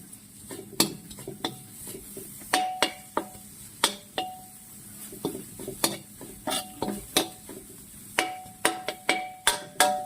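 Chicken offal stir-fried with pounded spice paste in a pan, with a spatula scraping and clanking against metal in a steady, repeated rhythm over a soft background sizzle.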